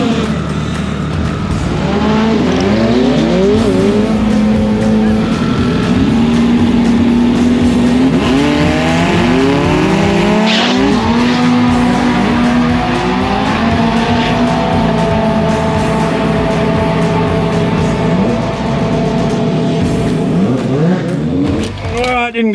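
A 4-cylinder Ford Foxbody drag car roars loudly and continuously down the strip at Willowbank Raceway, rising in pitch through repeated gear changes as it accelerates hard, with brief tire noise along the way.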